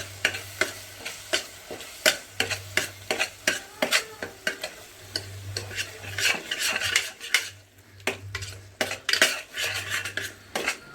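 A spoon stirs chana masala in a pan, scraping and clinking against the metal in a steady rhythm of sharp strokes, with a soft sizzle underneath.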